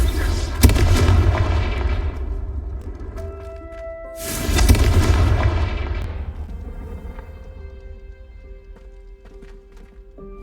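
Confringo fire spell explosions in Hogwarts Legacy: two loud, booming blasts a few seconds apart, each followed by a long fading roar, with sustained musical tones ringing underneath.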